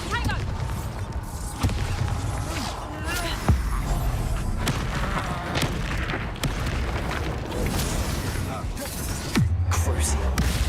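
Spell blasts, Bombarda among them, go off in Hogwarts Legacy as a run of sharp booms and crackling impacts several seconds apart, with mechanical creaks mixed into busy game noise.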